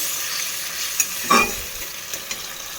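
Masala with boiled tomato paste sautéing in a pan, a soft sizzle broken by a few sharp spatula scrapes and clinks, with one louder scrape near the middle.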